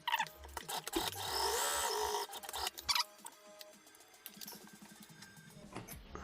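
A sewing machine stitches a seam along a double-layer fabric mask, running in a fast whirring burst, stopping briefly, then continuing in shorter runs with mechanical clicks and handling noises, close and fairly quiet.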